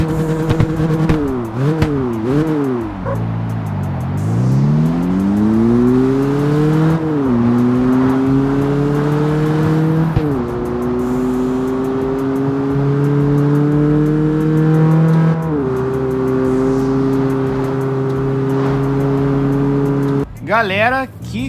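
A car engine in the CarX Street racing game revs repeatedly, rising and falling in pitch, then climbing through several gear shifts with a steady drone. It ends with a brief burst of noise.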